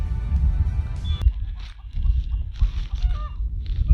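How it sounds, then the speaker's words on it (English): A couple of hens wait at a garden gate, giving a few short clucks and squawks over a low rumbling background, fairly close and with no talking. "And here are a couple chickens waiting at the gate, seeing if they can get in here."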